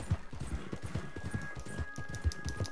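Horse hooves clip-clop in a steady galloping rhythm in the Western video game Red Dead Redemption II, fairly close and moderately loud, with repeated low thuds and no speech over them.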